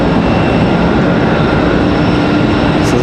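An Air France Boeing 777 with GE90 engines gives off a loud, steady jet roar that fills the scene without a break, with no talking over it.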